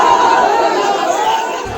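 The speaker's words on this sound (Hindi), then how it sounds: "पप्पू यादव के खिलाफ आरजेडी कार्यकर्ताओं ने जमकर नारेबाजी की।" RJD party workers chanting slogans against Pappu Yadav at a Congress candidate's nomination, a loud, dense crowd roar of many voices close by.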